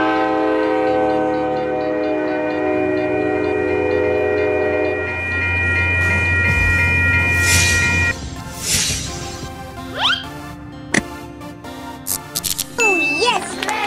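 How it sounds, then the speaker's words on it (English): A double-decker train sounds a long, loud horn chord, then rumbles and screeches along the rails with metallic squeals and clatter, up close. "Large-sized railway vehicle whose carriages have two levels of passenger accommodation instead of one."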